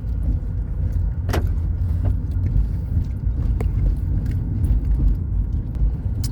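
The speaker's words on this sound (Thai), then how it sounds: "ตอนนี้กำลังขับรถลงจากยอดเขาวัดถ้ำแก้วกาญจนาแล้ว" Steady car road rumble heard from inside while driving down from the hilltop Wat Tham Kaeo Kanchana temple in Tha Muang, Kanchanaburi, with a few faint clicks and rattles over the constant engine and tire drone.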